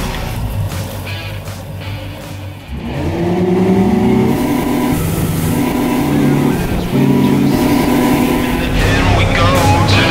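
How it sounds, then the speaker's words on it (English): Sea Hunt Escape 28 boat, 2024 model, powered by twin 300 hp Yamaha outboard engines, roaring loudly as the motors throttle up, with a rising tone and a steady drone plus water rush, no talking. "twin 300 horsepower Yamaha engines"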